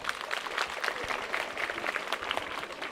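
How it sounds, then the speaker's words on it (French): Steady crackling applause from an audience at a ceremony donating computers and teachers' outfits to a middle school in Gueoul, heard somewhat distant and continuous with no one speaking. "Applaudissez encore une fois."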